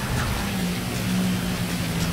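Steady rainfall in the video game GTA 5 Online, a dense continuous hiss of falling rain, loud and even throughout, with no speech.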